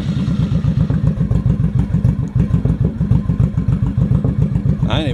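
A cold Honda motorcycle engine fires up and settles into a steady, loud, close idle with a regular thumping beat, a brief higher mechanical rattle near the end.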